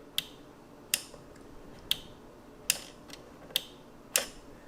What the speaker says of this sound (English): you can test this for yourself by slightly pushing it until you hear a little click